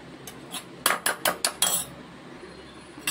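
Garlic bread butter paste with chili flakes, pepper powder and coriander being mixed in a bowl: a quick run of about six sharp clinks and scrapes of a utensil against the bowl, close and fairly loud, then quiet.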